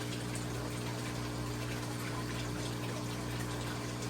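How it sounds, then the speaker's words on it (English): A Hygger water change pump drains an aquarium, giving a steady, unbroken hum with a rushing water gush throughout, constant in level and heard alone. "we're going to be draining this about halfway through, and then re-adding water to it"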